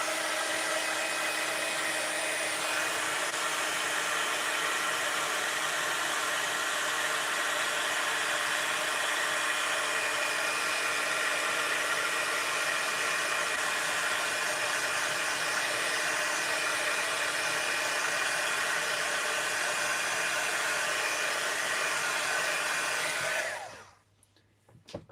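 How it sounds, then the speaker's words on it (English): A heat tool blows steadily to dry a watercolour painting, a loud continuous broadband whoosh that runs almost unbroken for about 23 seconds before cutting off abruptly. "I'm going to use my heat tool to dry this."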